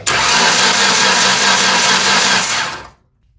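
A 2005-2006 Ford Ranger engine runs with its camshaft sensor unplugged during timing chain diagnosis, a loud, steady, buzzing mechanical roar close by that cuts off abruptly near the end.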